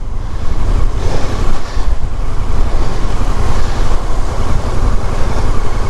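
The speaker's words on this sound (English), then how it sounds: "but this wind's picking up." Strong gusting wind during Storm Darragh in the Lake District, roaring loudly and continuously across the microphone close by, with a rushing, surf-like wash beneath the buffeting.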